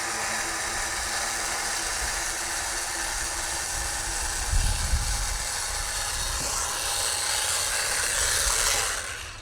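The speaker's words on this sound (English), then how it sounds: "All right, with that tight, I can lower the jack." An AGM electric jack lowers a Kawasaki H2 motorcycle outdoors, giving a steady motor whine that holds for most of the clip, with a low thump midway, then cuts off near the end.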